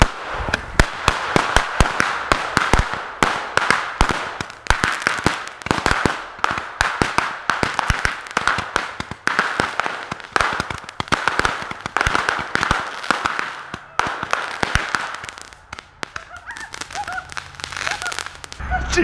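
A dense barrage of firecrackers pops and bangs continuously at close range, loud rapid cracks overlapping with a sizzling crackle, easing slightly near the end.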